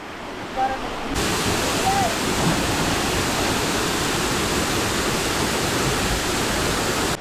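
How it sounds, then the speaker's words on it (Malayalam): Ezharakund waterfall on the Paithalmala route in Kannur, heard as a loud, steady roar of falling water that swells in after the first second and holds unbroken, with a brief voice faintly at the start. "ഞാനിപ്പോൾ നിൽക്കുന്നത് കണ്ണൂർ പൈതൽമല റൂട്ടിലെ ഏഴരക്കുണ്ട് വാട്ടർഫോൾസിലാണ്"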